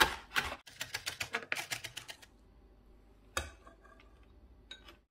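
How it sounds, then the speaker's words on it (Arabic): A knife chopping fresh parsley and coriander on a cutting board, a quick run of crisp, evenly spaced taps, then a pause and a few scattered single cuts, close and clear. "نقص المعدنوس والكزبر"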